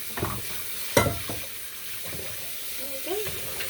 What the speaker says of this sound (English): I am going to rinse this pan real quick.